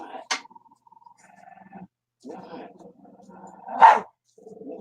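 A dog growls in a few low, rumbling bursts separated by short pauses, fairly close, with two sharper, louder outbursts standing out against a quiet outdoor background.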